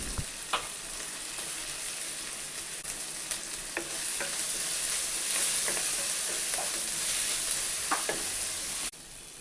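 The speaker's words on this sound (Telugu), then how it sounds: "ఇప్పుడైతే చిన్నగా కట్ చేసుకున్న yellow, green, red colour capsicum ముక్కల్ని యాడ్ చేసి కాసేపు ఫ్రై చేయాలి" Small pieces of yellow, green and red capsicum frying with onions for paneer masala pasta, a continuous sizzle broken by frequent scraping stirs, louder in the second half before it cuts off abruptly near the end.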